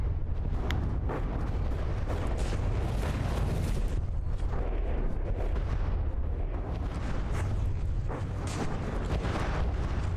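Torpedoes explode against a battleship in the From the Depths game, a loud, dense barrage of deep booms and rumbling blasts rolling almost without pause.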